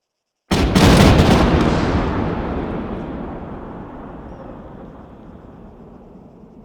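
A single rifle volley fired at a memorial service: one loud, sharp blast of several shots together, followed by a long rumbling echo that slowly fades.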